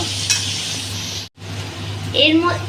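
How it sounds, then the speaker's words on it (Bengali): Vegetables stirred and frying in a pan, with a steady oily sizzle and the soft scrape of stirring, broken by a brief silence midway before the sizzle resumes with clearer utensil scrapes toward the end. "এবারে আমি আর একবার এটাকে ভালোভাবে মিশিয়ে নেব"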